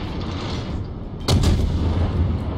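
A ship's artillery gun in World of Warships fires a single sharp, booming shot partway through, rising loud above a steady rumbling background.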